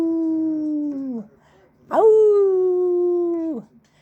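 A person imitates a wolf howling, giving two drawn-out vocal howls, the second louder and longer, with a short gap between them, close and clear.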